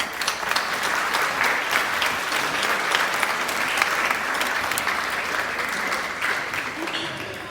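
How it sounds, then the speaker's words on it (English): Students on stage at a middle school band spring concert applaud their parents with a loud, dense wash of clapping that holds steady for several seconds and tapers slightly at the end. "let's give your parents a round of applause"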